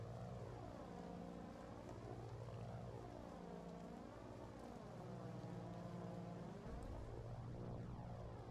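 A bomber aircraft in the war game Foxhole flies past with a steady, droning propeller hum whose pitch swells and bends as it turns. The drone is constant and rather faint, with no talking.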